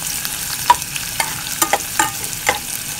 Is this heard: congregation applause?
no